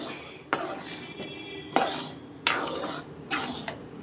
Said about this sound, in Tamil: கட்டி பிடிக்காமல் பார்த்து கிண்டிக்கோங்க